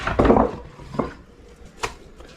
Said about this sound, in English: Then I'll have Consuelo bring the frying pan over here, and we'll plop this goodness right into it